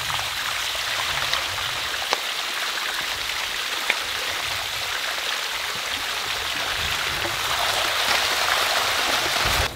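Water runs from a tap into a cistern at a remote ruin being rebuilt by hand, a steady, close rushing splash that holds at an even level throughout with no voices.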